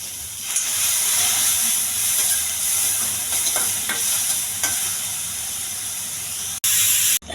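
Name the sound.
onions frying in oil for tempering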